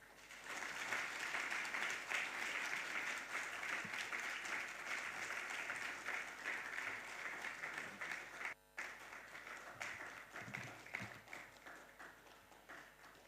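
Steady applause rolls through a conference hall at a U.S.–Africa nuclear energy summit in Ghana, continuous clapping from a large audience that stays even for a long stretch, briefly dips, then tapers off.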